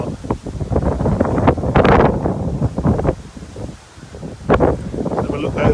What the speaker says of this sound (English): It is exceptionally windy